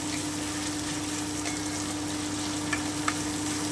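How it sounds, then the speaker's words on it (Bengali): Onion and tomato fry in a pan with a steady, close sizzle and faint stirring clicks, no voices. "আমি খুব ভালো করে ভেজে নেব যতক্ষণ টমেটোর কাঁচা গন্ধটা চলে না যাচ্ছে।"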